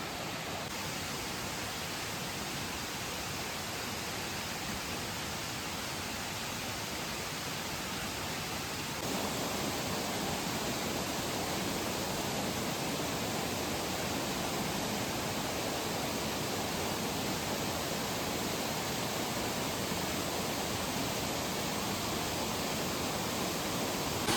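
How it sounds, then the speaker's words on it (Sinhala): Miyunu Ella waterfall at Gawaragiriya in Sri Lanka, heard from above the fall: a steady, dense roar of falling water that swells louder partway through and then holds unbroken, with no voices. "මෙතන ලොකු දියැලක් තියෙන්නේ පල්ලෙහාට වැටෙන්නේ"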